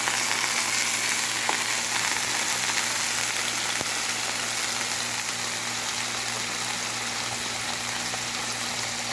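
Fish frying in hot oil in a pan, a loud, continuous dense sizzle that holds steady throughout, with a couple of faint clicks and no voices.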